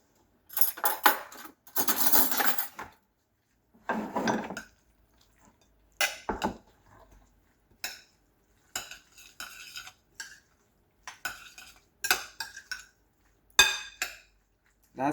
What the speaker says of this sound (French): Un petit peu d'huile. Voilà, on va mélanger.